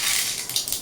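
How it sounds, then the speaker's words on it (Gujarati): Mustard seeds and cumin hit hot oil for sambar, giving a dense, close, steady crackling sizzle with tiny popping bursts throughout the brief moment. "તેલ ગરમ થાય એટલે પછી નાખશું રાઈ જીરું."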